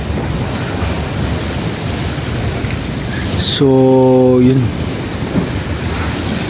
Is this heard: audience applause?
no